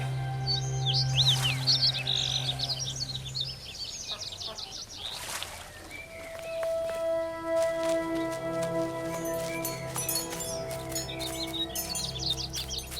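Chirping birds in the video game The Last Campfire, a steady chorus of small tweets and calls running through the scene over soft ambient music, with a narrator speaking over it.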